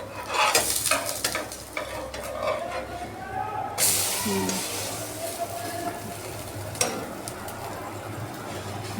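Handvo, a savory Gujarati batter cake, sizzles in a hot pan as it is flipped, with steady frying hiss and a few sharp scraping clatters from the turner, while a person talks over it.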